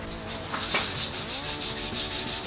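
Old glossy varnish being scraped off wood by hand, repeated close rasping strokes with a steady back-and-forth scratching rhythm, fairly quiet and with no talking.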